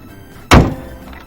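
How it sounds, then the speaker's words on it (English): A car hood slams shut with a single sharp, heavy thunk in a quiet setting. "So now let's close the hood"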